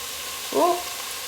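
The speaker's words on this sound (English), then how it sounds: "I want to stir fry them around until they are soft and wilty" Vegetables stir-frying in a pan until soft, a steady close hiss of sizzling with a brief squeaky tonal scrape partway through.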